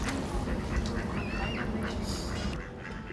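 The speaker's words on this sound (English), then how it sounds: "And right on the canal with its swans and ducks." Ducks quack on a canal in Delft, Netherlands, over a steady outdoor wash of ambient noise. The calls are scattered and mid-distance, and no one speaks.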